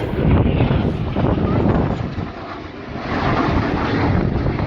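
Strike Master and Jet Provost military jets fly past at an air display, a loud continuous roar that swells and eases, heavily buffeted by wind noise on the microphone.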